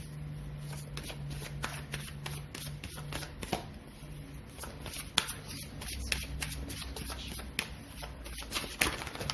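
Tarot cards shuffled by hand, a dense, steady run of quick riffling and flicking card taps with a few sharper snaps, close and fairly quiet, with no talking.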